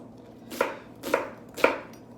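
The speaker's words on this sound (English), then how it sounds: "you're gonna cut up a white onion, or red onion if you have red onion on hand too" Three crisp knife chops through a white or red onion on a cutting board for salsa, evenly spaced about half a second apart, close and distinct against a quiet room.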